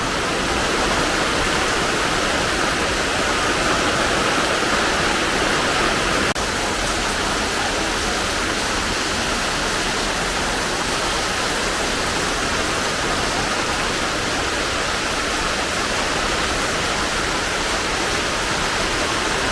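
A river runs high after heavy rain, a dense, unbroken rush of flowing water that stays loud and constant throughout with no pauses.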